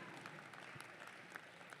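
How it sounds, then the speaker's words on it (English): A crowd at a college graduation ceremony gives a round of applause, a steady patter of many hands clapping at a distance, fairly faint, with no gaps. "So if we could give them a round of applause as well."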